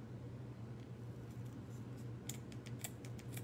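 A few quick, crisp snips of scissors cut through Dollar Tree craft material, scattered and fairly faint over a steady low hum, with no voices.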